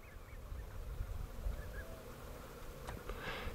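Migrating geese honking at a ranch stopover in spring, a few short distant calls scattered over steady outdoor background noise.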